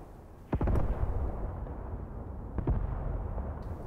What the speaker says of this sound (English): No, there's more shooting.